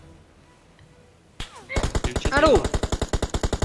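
Rapid automatic gunfire in the mobile shooter PUBG Mobile, a loud, dense, evenly spaced burst of shots after a short sharp crack, with someone speaking briefly over the shooting.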